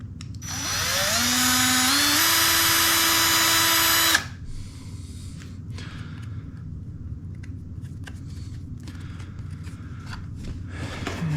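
A power drill bores out the pickup screw holes in a Gibson SG body, its motor whining loud and steady and rising in pitch for about four seconds before cutting off, followed by quiet handling and shuffling noises.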